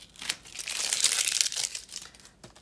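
Excess backing is peeled off a sheet of planner stickers, a close crinkling, tearing rustle lasting a couple of seconds.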